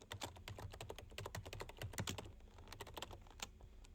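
Close, fast typing on a computer keyboard, a dense run of crisp clicking keystrokes with a brief pause near the end, no voices.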